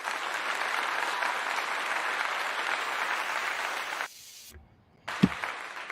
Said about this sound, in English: Give yourself another round of applause, man.